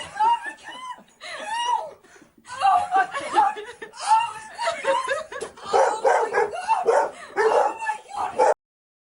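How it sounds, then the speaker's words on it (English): Excited dogs at a tearful reunion, barks and yelps mixed with laughter and chuckling voices, several bursts over a few seconds, close by. "I love the way the dogs were joining in with the excitement."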